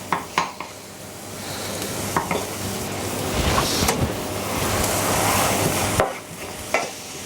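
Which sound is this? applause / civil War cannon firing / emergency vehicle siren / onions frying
onions frying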